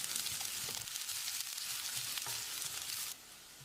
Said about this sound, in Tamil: இதையும் போட்டு செவந்து வர்ற அளவுக்கு வதக்கிடலாம்.